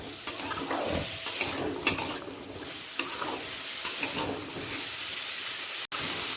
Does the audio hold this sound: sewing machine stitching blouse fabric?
no